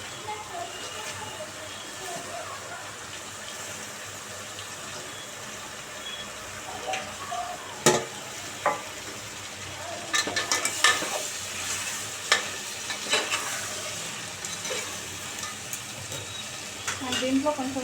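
Vegetable pulao mixture stirred in a pan, a faint soft sizzle with scattered spoon scrapes and clicks against the pan that grow more frequent toward the end, close and quiet, with no talk.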